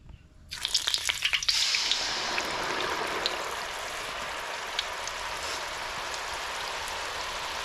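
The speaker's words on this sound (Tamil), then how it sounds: "எண்ணெய் நல்லா சூடானதுக்கு அப்புறமா நம்ம எண்ணெயில் போட்டுக்கலாம்" Murukku dough drops into hot oil for Diwali snacks, bursting into sharp crackling at once, then settling into a steady, close, bright sizzle that carries on alone.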